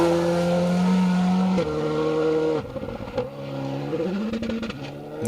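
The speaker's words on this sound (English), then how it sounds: "Car sounds fantastic as well. Just popping off the rev limiter over the jump there" Rally car on a forest stage, engine revving hard with sustained high-pitched harmonics, then a sharp cut and stuttering bounce off the rev limiter over a jump before the engine picks back up, loud and close.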